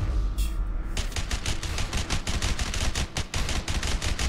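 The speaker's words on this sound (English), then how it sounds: "I shot him like 15 times in the face!" Rapid gunfire bursts in the video game A Way Out, a fast run of loud, close shots in a steady rhythm, with no talking over them.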